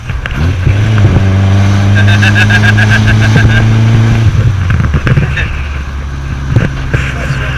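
An old red truck's engine runs loud and close, revving hard with a steady droning tone for several seconds before settling back to a rougher idle, with voices faintly in the background.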